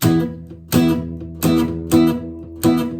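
Five palm-muted guitar chord strikes in a steady rhythm, each a punchy, chugging burst that decays quickly, played close and loud with no talking.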